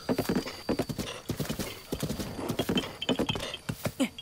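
Horse hooves clip-clop at a steady gallop in Zelda: Breath of the Wild, a close, fast rhythmic patter with a brief whinny, heard alone without talk.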